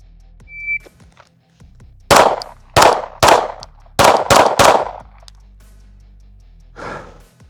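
Pistol fired at 10 yards in a drill, six sharp loud shots in quick irregular succession, the last few closely spaced, followed by a fainter rustle after a short pause.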